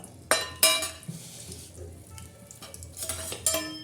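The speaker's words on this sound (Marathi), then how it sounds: "आता हे तेल टाकलंय आपल्या याच्यानुसार लगेच कढीपत्ता" Curry leaves hit hot oil for a simple village-style chicken curry, bursting into sharp crackling spits, with a couple of loud pops early on and utensil clinks against the pan amid a low background sizzle.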